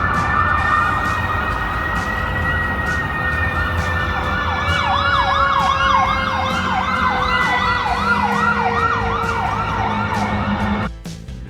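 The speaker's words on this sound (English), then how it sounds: "so you get a lot of ambulances coming through" An ambulance siren passes along Tulane Avenue in New Orleans, a hospital district, loud and close, first with long rising and falling wails and then with rapid yelping cycles over engine and traffic rumble before cutting off abruptly near the end.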